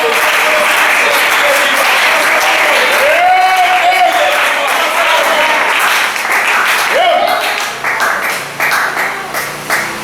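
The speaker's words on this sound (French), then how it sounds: "Acclamez le Seigneur." A church congregation bursts into sustained applause, dense and loud for several seconds before tapering into scattered claps, with a preacher's voice over it.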